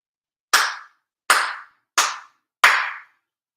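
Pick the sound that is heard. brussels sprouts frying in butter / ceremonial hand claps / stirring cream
ceremonial hand claps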